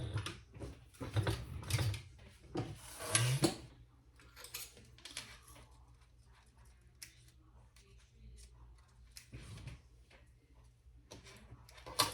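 A sewing machine runs in short bursts, putting a few stitches through zipper tape on a raw edge, with quick mechanical whirring and ticking up close, then quieter handling clicks and pauses before it starts again.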